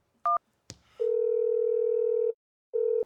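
A telephone dial tone sounds during a call for backup: a brief dual-tone beep, then a long steady tone lasting over a second, a short gap, and the tone starting again, clear and close with no talking.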